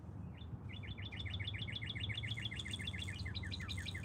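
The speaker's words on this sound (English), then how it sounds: "Birds are talking today." Small birds chirp high up in a tree above a riverbank where people are catfishing, giving a quick run of repeated tweets over steady low outdoor background noise.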